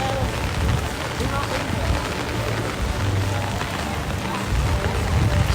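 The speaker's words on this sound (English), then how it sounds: "Let's get out of this rain." Heavy rain from a hurricane pours down steadily at an amusement park in a dense, continuous hiss, with a low rumble underneath throughout.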